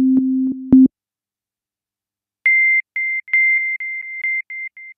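Korg microKORG synthesizer playing a near-sine tone through a resonant 24 dB low-pass filter: a short burst of low sustained notes, a pause, then a run of high, shrill, pure pulsing tones in stuttering rhythm.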